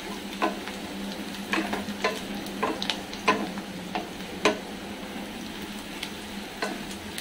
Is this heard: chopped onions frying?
yes